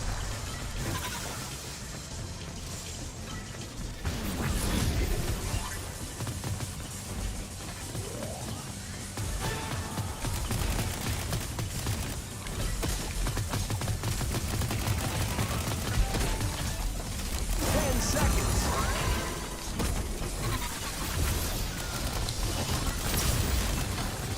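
Video game gunshots crackle and thud in irregular bursts amid explosions and busy mechanical game noise, forming a dense, continuous battle din with no clear pauses.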